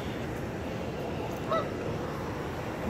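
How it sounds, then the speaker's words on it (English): Geese by a park lake give a short burst of honking around mid-clip, one or two calls standing out moderately loud over steady outdoor background noise. "Hello, geese."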